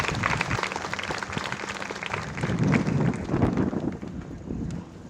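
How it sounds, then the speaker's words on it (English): Pageant audience applause fills a hall, a dense rush of many hands clapping that swells in the middle and tapers slightly toward the end, with no voice over it. "So can we give them a wonderful round of applause?"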